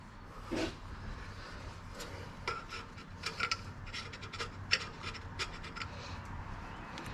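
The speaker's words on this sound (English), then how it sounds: "Got to get the old super scraper here." A gasket scraper scrapes old gasket material off a fuel pump mount on an engine, with short irregular metallic scratching strokes and a few sharp bursts over a low background hum.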